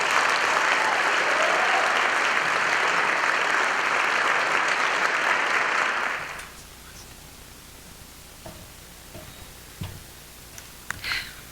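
A large audience in Winnipeg applauds a speaker arriving on stage, a dense sustained roar of clapping lasting about six seconds before cutting off to near quiet with a few faint ticks and shuffles.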